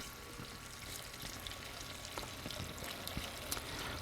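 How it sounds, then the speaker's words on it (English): Gasoline pours slowly from a gas can into the tank of a 2006 Club Car DS gas golf cart, a quiet continuous trickle with faint splashes and no talking. "I'll just pour it nice and slow so we don't make a mess"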